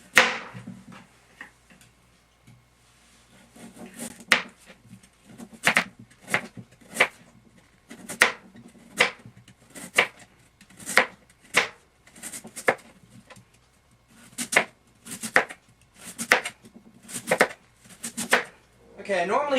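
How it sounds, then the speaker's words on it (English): A knife thinly slicing a sweet potato on a cutting board for a Thanksgiving stir fry, a long series of crisp, sharp cuts tapping out at an uneven but steady pace, close and distinct against a quiet kitchen. "we're just going to thinly slice this."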